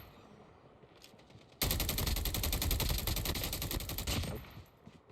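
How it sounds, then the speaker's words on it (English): Players firing guns in Call of Duty: Mobile during a Blackout match, a sudden loud burst of rapid automatic gunfire that rattles steadily for over two seconds and then cuts off, leaving quiet background. "People are shooting."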